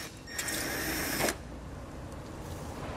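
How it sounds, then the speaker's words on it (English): A 7 mm socket spins a bolt out during a Roadmaster crossbar-style base plate installation on a 2016 vehicle, making a brief motorized whir of about a second that cuts off sharply into quiet room noise. "So we'll grab a 7 millimeter socket"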